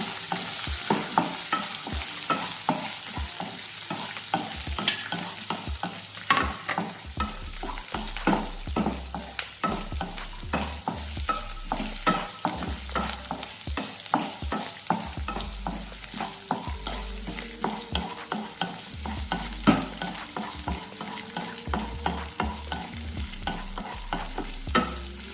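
Onion and garlic sautéing and sizzling in a pan for ivy gourd chutney, with steady frying hiss and repeated close stirring scrapes throughout, no voices.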